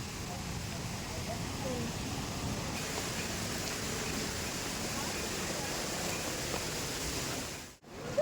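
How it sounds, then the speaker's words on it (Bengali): Heavy rain pours near a waterfall at the Garden of Caves in Laitryngew, Meghalaya, a dense continuous rushing wash that fills the whole scene, with a brief dropout near the end. "প্রচুর বৃষ্টি হচ্ছে"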